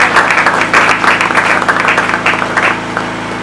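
A church congregation applauds: dense, steady clapping from many hands, close and loud, holding evenly before thinning slightly toward the end.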